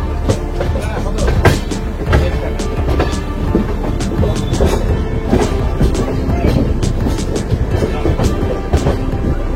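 Amrit Bharat Express rolling slowly through a curve, a steady loud rumble of wheels and carriages with repeated clacking jolts, heard close from on board.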